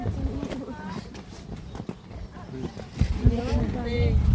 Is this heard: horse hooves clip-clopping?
yes